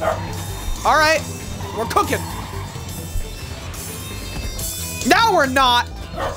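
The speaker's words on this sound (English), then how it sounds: "Excuse my fucking dog." A dog barks in two loud bursts of yips and whimpering barks, close by, while someone talks over a video game.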